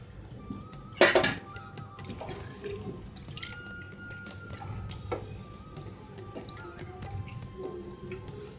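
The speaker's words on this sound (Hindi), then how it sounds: "अब इसमें मैं 1 ग्लास पानी डाल दूंगी।" A glass of water goes into fried tomato masala in a pot for Maharashtrian chicken curry, with one loud splash followed by a steady low sizzle and faint clinks of cookware.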